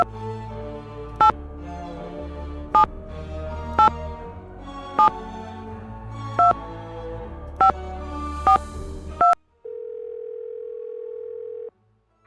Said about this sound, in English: It's a touch-tone phone.